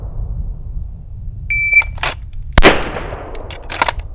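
A shot timer gives a high, clear electronic beep during a pistol draw from a holster, followed by a couple of sharp, loud cracks and fainter clicks in a quiet outdoor setting.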